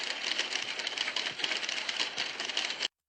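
Many typewriters clattering at once in a 1976 film: a dense, continuous mass of overlapping key strikes with no clear rhythm that runs unbroken and then cuts off abruptly near the end, with no voices.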